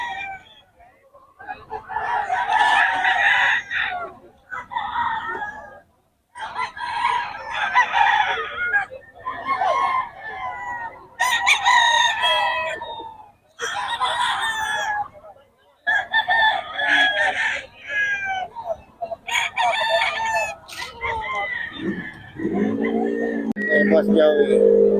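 Roosters crow repeatedly at a busy chicken market in Bocaue, their calls rising between stretches of steady human talk, with some clucking in the crowded background.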